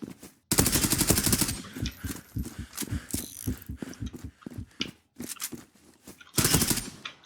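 Automatic gunfire from the online shooter Zula rattles in two loud bursts at the start and end, with quieter mechanical clicks and single shots between them.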